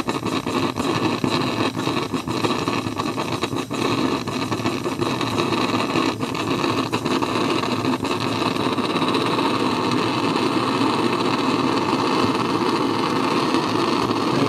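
An LP-0.2 blowtorch burning steadily, a continuous broadband roar with a slight rough flutter that stays loud and even from start to finish, with no voices.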